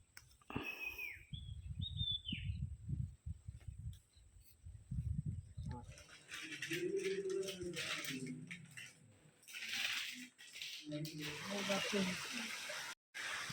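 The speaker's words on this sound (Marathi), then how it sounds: "बाजूचं खळाळतं पाणी" Water gurgles and rushes close by at an ancient Shiva temple, with a few bird chirps early on; a person then starts talking over the flowing water.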